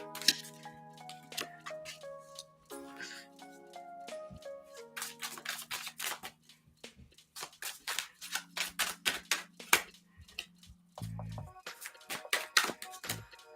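Tarot cards are shuffled and handled by hand, crisp riffling and snapping bursts at close range that come in uneven clusters. They play over a quiet sustained tonal backing of soft music.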